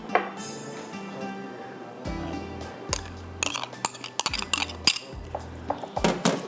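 A spoon clinks and scrapes against a bowl while ginger-garlic paste and yogurt are stirred for mutton dum gosht, with irregular metallic taps and soft squishing, close by.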